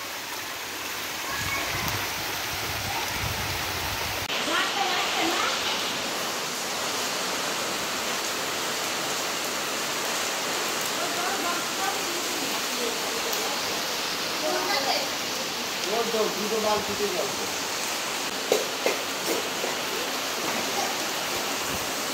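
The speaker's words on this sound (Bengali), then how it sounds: "প্রচুর জোরে বৃষ্টিটা হচ্ছে।" Heavy rain pours steadily on a rainy day, a dense continuous hiss throughout with a few brief knocks and a voice or two briefly audible under it.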